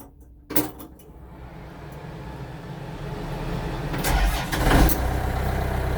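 A restored tractor engine cranks and fires, catching after a sharp knock and building into a steady, rumbling idle nearby, with a couple of bursts as it revs.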